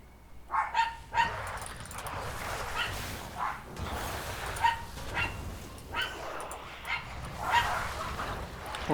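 Dogs bark and yip at a distance, short bursts scattered irregularly through a noisy room with some faint background voices.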